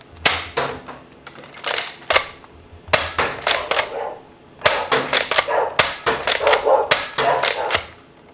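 A Nerf blaster fitted with a stronger 10 lb spring fires darts in a quick series of sharp, loud pops, some single and some in fast clusters, with short clatters between shots and no talking.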